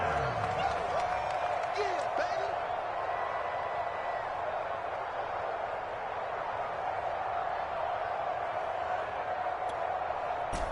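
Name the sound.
stadium crowd cheering in Madden 22 video game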